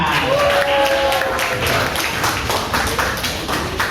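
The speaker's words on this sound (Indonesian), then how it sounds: "beri tepuk tangan yang meriah kepada moderator kita yang kece dan ganteng satu ini." Loud, dense clapping from a large audience at a university public speaking presentation, mixed with some cheering and scattered taps, sustained throughout.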